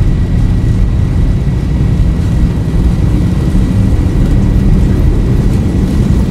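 In the X-Plane 11 flight simulator, a Boeing 737's jet engines spool up toward takeoff power, a loud, dense, low rumbling roar that stays steady throughout with no talking.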